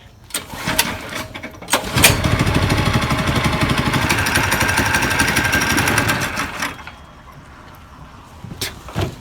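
A small go-kart engine revs up during a throttle cable test and holds a loud, buzzing whine for several seconds, then drops away to quiet with a few clunks.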